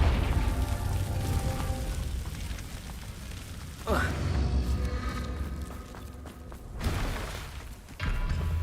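Fiery Confringo spell blasts in Hogwarts Legacy, a few separate booming bursts at about four, seven and eight seconds over a low rumbling game backdrop with light footsteps and mechanisms.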